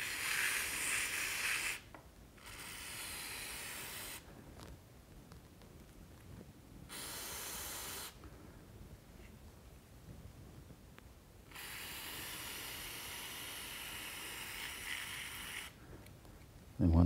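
Short bursts of brake cleaner spray hiss against a Honda Civic filter in a home garage, several separate sprays of a few seconds each with quiet pauses between.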